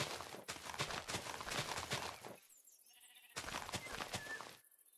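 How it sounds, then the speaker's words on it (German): Sheep in a Tekkit Minecraft game bleating in two long, wavering, nasal calls separated by a short pause, close and clear with no talk over them. "hier sind Schafe"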